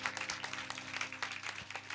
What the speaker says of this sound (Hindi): मैं चाहता हूँ जोर से ताली बजा